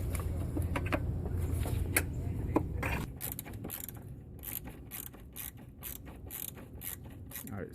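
A ratchet tightens the battery hold-down bolt in a Honda Pilot, its pawl clicking in a steady run of close, rapid ticks over a low engine-bay background hum, with no talking.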